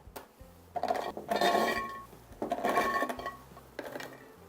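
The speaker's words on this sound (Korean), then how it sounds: "이 유리병 하나가 2리터 짜리거든요 깔때기 해갖고 이제 천천히 담아주면 됩니다" Dried garlic cloves pour through a funnel into a 2-liter glass jar in a few clattering, rattling bursts, close and bright, with short pauses between pours.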